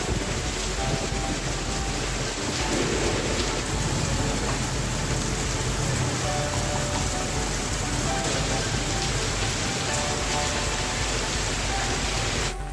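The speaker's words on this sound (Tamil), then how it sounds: "மாலை வேளையில் மிதமான மழை பெய்ததால் குளிர்ச்சியான சீதோஷண நிலை ஏற்பட்டது." Moderate rain falls in Tamil Nadu, producing a constant broadband hiss of drops on surfaces that stays even and close, with faint low rumbles underneath.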